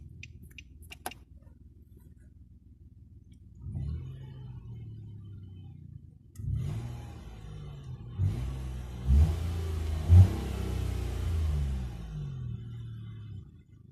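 A 2016 Nissan Note N-TEC three-cylinder engine idles quietly, then is revved repeatedly from inside the cabin, with several rising bursts climbing and falling back over a steady low rumble.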